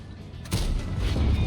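A single heavy tank cannon blast in World of Tanks booms suddenly after a quieter stretch, followed by a rumbling echo and low battle noise.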